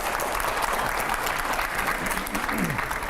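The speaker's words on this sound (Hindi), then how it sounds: "जोरदार तालियां हो पहले।" A studio audience on a live television news show applauds during a rapid-fire question round, with sustained, dense clapping throughout and a voice faintly underneath.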